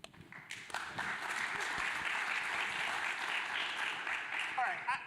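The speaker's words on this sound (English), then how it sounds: "please give a round of applause for Rich and Roy for joining us" Steady audience applause fills a conference room at a military veteran founders event, a dense wash of clapping from a crowd lasting several seconds with a voice briefly audible over it.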